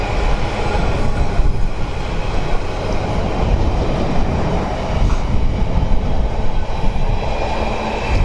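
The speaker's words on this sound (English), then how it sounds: "you've got the express trains whizzing through, you've got the freights and the infrastructure traffic" A train rolls through Kenilworth Junction on a busy line carrying express passenger, freight and infrastructure traffic, a loud, steady rumble of wheels and wagons close by that holds for the whole stretch with no voices.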